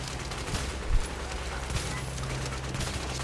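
Sniper rifle fire in a multiplayer shooter game, a few sharp shots scattered over a steady din of game sound, with one louder crack standing out near the start.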